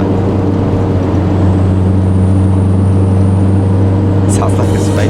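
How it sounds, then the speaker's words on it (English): A bus engine drones steadily on the road to Banyuwangi, Indonesia, heard from inside the cabin as a constant low hum with a faint high whine and brief rattles near the end. "This is what our bus sounds like."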